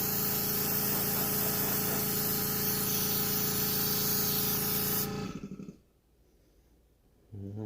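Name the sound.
spray painting yellow over red on RC10GT body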